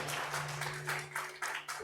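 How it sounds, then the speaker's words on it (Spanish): Church congregation applauding for the Lord, a steady wash of hand claps with a few sharper bursts over a low steady hum, no talking. "¿Le da un aplauso al Señor?"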